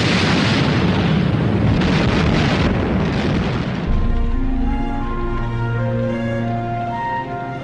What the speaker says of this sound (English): The Soviet T-34s drove into the German lines and opened fire at point-blank